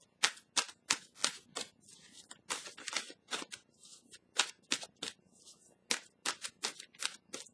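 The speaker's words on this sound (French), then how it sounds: "Là, je vais piger une carte." Tarot cards are shuffled and drawn from a deck as a quick, uneven run of crisp, papery flicks and snaps, close and quiet, with no voices.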